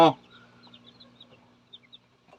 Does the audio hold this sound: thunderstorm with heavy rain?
no